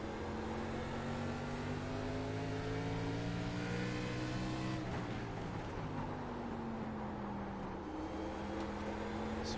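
Race cars in the iRacing NASCAR game at New Smyrna: a dense, constant engine whine with pitch shifts as cars pass, steady and loud across the whole stretch.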